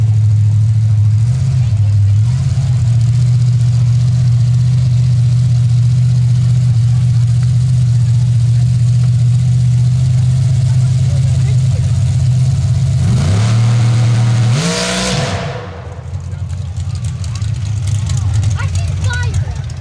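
A drag racing car engine idles with a steady low drone at a dirt drag strip, then blips and revs sharply near the end before settling back, loud and close with no voices over it.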